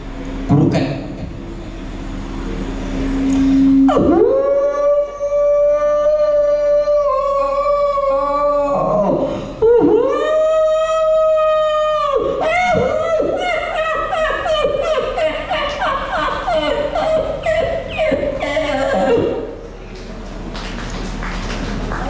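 A voice imitating a jackal howling at a school reunion mimicry show, a string of long rising and wavering howls, loud and close, with a few choppy yelps and brief murmuring between calls.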